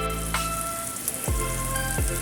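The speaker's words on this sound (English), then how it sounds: "Then add in the green peppers and red peppers. Then stir fry" Green and red peppers stir-frying in a hot pan give off a steady close sizzle, with a few scraping stirs of a utensil cutting through.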